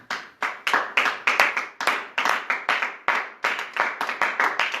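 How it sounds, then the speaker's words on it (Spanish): A church congregation claps in a strong, steady rhythm, the applause close and lively, with no talking over it. "Denle un fuerte aplauso al Señor entonces."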